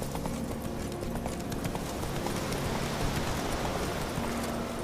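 Roach the horse galloping in The Witcher 3, with rapid, steady hoofbeats over a dense, continuous bed of outdoor ambience, lasting the whole stretch.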